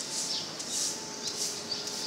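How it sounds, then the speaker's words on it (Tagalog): Several small birds chirp near their nest among building pillars, giving short, high, bright calls in repeated bursts over a faint steady background hum. "May mga ibon."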